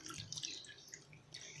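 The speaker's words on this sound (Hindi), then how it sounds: "अब मैं इसमें तकरीबन इतना ही पानी शामिल करूँगी।" Water trickles and drips into a 250 ml cup holding bread, a quiet, uneven splashing with no talking.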